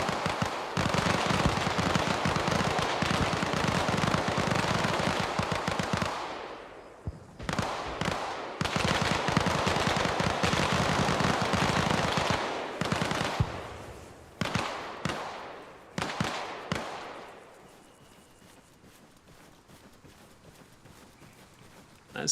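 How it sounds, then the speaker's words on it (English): Bursts of rapid gunfire from a rifle in Arma Reforger, loud and dense for several seconds at a time with short gaps, then scattered shorter volleys trailing off into quiet near the end. "This burst fire."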